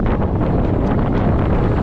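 Strong mountain wind on a trek buffets the microphone, a loud continuous roaring rush with no break throughout, no voices.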